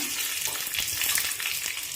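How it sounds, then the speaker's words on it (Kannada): Mustard seeds spluttering in hot oil for a rasam tempering, a close, bright crackle of rapid pops over a continuous sizzle, brief and unbroken by speech. "ಸಾಸಿವೆ ಹಾಕೋಣ"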